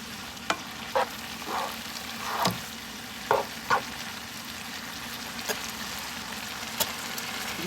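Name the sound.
green beans frying in a pan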